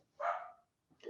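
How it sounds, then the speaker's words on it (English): Dogs bark in a house during an online talk, a quick burst of barking followed after a short pause by another bark, faint and somewhat distant, with no speech over them. "Apologies if you can hear my dogs in the background"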